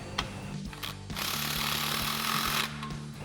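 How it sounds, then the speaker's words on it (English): An impact wrench with a 15 mm socket snugging down clamps on a Magnaflow Competition Series cat-back exhaust for a Challenger, heard as a sustained loud buzzing hammer burst lasting over a second, with shorter rattling pulses before it. "we're going to grab our 15 mil socket on our impact again and snug down our next two clamps"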